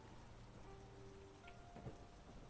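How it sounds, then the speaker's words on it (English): Steady rain falls at night in a continuous, even wash with a soft low rumble beneath it, with no voices over it. "you look out into inky blackness with the rain coming down"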